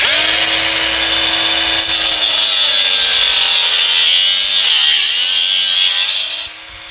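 An angle grinder fitted with a wood-cutting disc bites into wood close by, a loud, continuous whining rasp with slight pitch dips as the load changes, then it eases off abruptly at the end.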